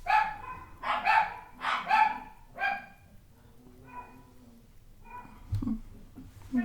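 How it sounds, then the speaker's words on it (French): Several dogs bark in bursts, about five loud barks in quick succession at first, then fainter, sparser barks from further off, with a thump near the end. "Je ne sais pas pourquoi encore mes chiens aboient."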